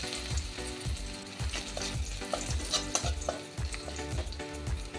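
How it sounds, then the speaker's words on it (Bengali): Five or six cloves of crushed garlic fry in hot oil with a steady close sizzle, while a utensil scrapes and stirs the pan in a repeated rhythm. "5-6 কোয়া রসুন আমি থেতো করে রেখেছি"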